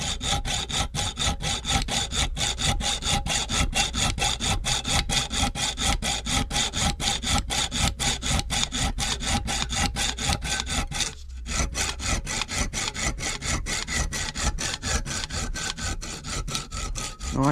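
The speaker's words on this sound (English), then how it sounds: "The rivet's a little bit too long, so I'll just cut it down to size very carefully" A junior hacksaw cuts a rivet to size for a fusible plug repair in rapid, even back-and-forth strokes, close and continuous, with one brief pause near the middle before the rhythmic rasping resumes.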